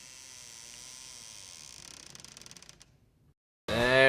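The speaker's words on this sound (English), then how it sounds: "The key turned with a satisfying click, and slowly the door creaked open." A key works a lock and a door slowly creaks open as a radio drama sound effect, a ratcheting, stuttering mechanical creak that slows and fades, followed by silence and then a loud burst of music.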